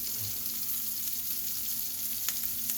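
A vegan chickpea burger patty sizzles steadily in a frying pan over medium-high heat, a loud, continuous close-up crackle and hiss with a few sharper pops and no talking.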